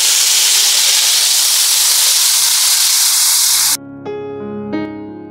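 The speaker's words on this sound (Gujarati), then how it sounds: "આ સ્ટેજ ઉપર આપણે હવે નાખીશું તીખી સુરતી મરચી, અને હવે આવશે ટમાટર." Spicy Surati chillies and tomatoes hit a hot pan while dal dhokli is cooked: a loud, steady, hissing sizzle runs for several seconds, then cuts off abruptly, leaving a few faint clinks and tones.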